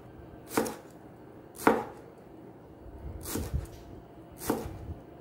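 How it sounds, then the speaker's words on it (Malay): A knife chopping coriander leaves on a cutting board while a kerabu salad is prepared, four distinct sharp chops spaced about a second apart, close and clear, with no talking. "Potong."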